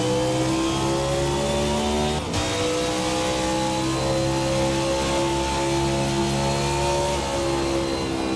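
A Hyperion 2020 race car engine revs continuously in the Race Sim Studio racing sim, a loud, sustained, buzzing drone with shifting pitch and a brief dip partway through, with no talking.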